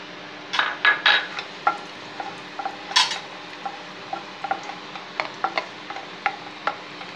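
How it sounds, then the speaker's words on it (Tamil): Raisins frying in ghee in a pan while making a tomato halwa-style jam: sharp spoon clinks and scrapes against the pan come in quick bursts over a faint, steady sizzle, close and alone. "அடுத்து உலர் திராட்சை, இதையும் லைட்டாக வறுத்துருவோம்."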